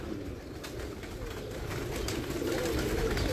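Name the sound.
pigeons cooing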